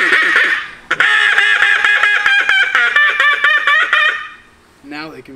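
A duck call blown very loudly imitates a rapid run of duck quacks, a dense series of sharp honking notes near the listener before it trails off into a few softer quacks.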